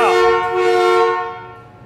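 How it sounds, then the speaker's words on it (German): An old VW bus horn honks once in a workshop, a loud, buzzy, harmonic blare lasting nearly two seconds and fading at the end. "Ja, die funktioniert, die Hupe."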